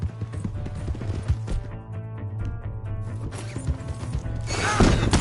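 Rhythmic clip-clop of horse hooves in Red Dead Redemption II, steady and moderately loud, with busy game effects and a brief rustle building near the end.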